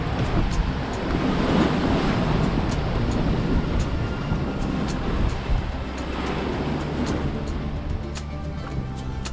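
Wind and waves hit a sailboat at sea as a squall passes: a constant loud rush of wind and surf, with faint creaks and clicks from the boat now and then.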